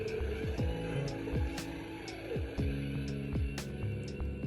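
Steady electronic hum from the hyperdrive of a vintage 1980s toy spaceship, a continuous buzzing drone with repeating pulsing tones, close and moderately loud, with no talking.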